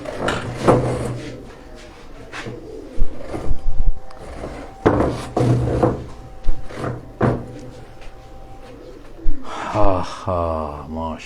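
A pigeon coos in short throaty bursts on a rooftop in Jalalpur Bhattian, mixed with knocks and rustles of handling close by and brief voices.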